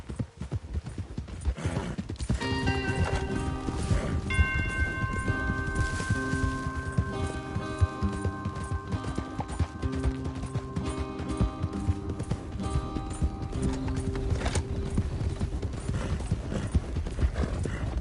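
Horses galloping in Red Dead Redemption 2, a fast continuous clip-clop of hooves with occasional whinnies over background game music, steady and fairly loud throughout.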